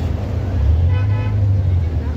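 Heavy traffic jam in front of the Maruti gate heard from a bus, a low engine drone with a brief honk or toot in the middle, close and steady.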